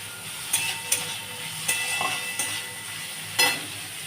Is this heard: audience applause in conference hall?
no